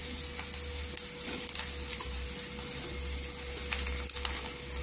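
Onion frying in a pan while cooked down to a golden colour for peanut chutney, a steady broadband sizzle running throughout with a faint constant hum beneath and a few small crackles.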